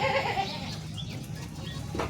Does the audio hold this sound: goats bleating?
yes